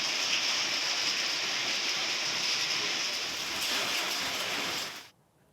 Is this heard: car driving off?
no